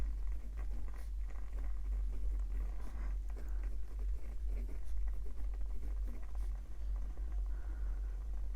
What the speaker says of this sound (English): So let me write down the categories really quick.